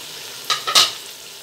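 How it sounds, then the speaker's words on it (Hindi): Ginger garlic paste fries in a pan with a faint sizzle, interrupted by two or three quick scraping strokes of a spoon, close and brief. "यह अदरक लहसुन का पेस्ट हमारा अच्छी तरह से भून जाएगा इसमें"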